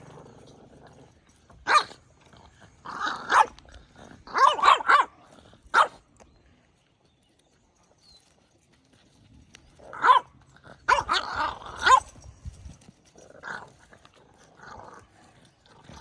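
A large shepherd dog barks in loud, spaced bursts with low growling between them, close by, with a long quiet gap in the middle.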